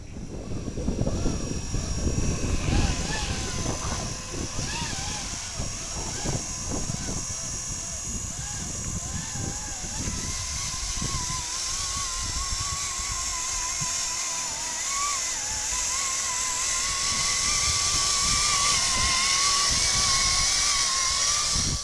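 Scale R/C Bell UH-1 Huey helicopter built from a HobbyBoss 1/18 plastic kit over Blade 230S mechanics, its rotor and motor whine droning steadily through the whole stretch with a high electric tone, with some talk underneath.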